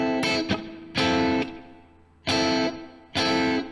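Distorted electric guitar plays a short riff, broken by pauses, and closes with two loud down strums. It is close and alone, with no talk, from a Rockschool Grade 3 lesson piece.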